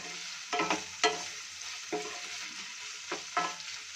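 Chicken mince with finely chopped garlic stirred in a pan: a soft, low sizzle broken by several distinct scraping strokes of a spoon spaced irregularly over a few seconds, no voices present.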